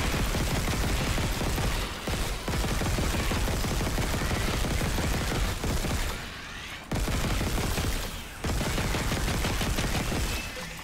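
Sustained automatic gunfire in the Dead Space remake hammers away loudly in long bursts, broken by a few brief pauses before the firing resumes at full intensity.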